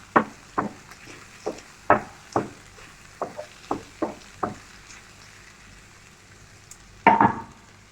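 Pepper and turmeric powder being stirred into frying oil, heard as a series of about a dozen sharp spoon knocks and scrapes against the pan, with a faint sizzle underneath and a louder scrape near the end.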